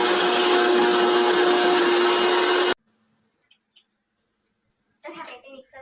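Mixer grinder grinding masala with a little water, a loud steady whirring roar for nearly three seconds that cuts off abruptly, followed by silence, a couple of faint taps, and then a person speaking.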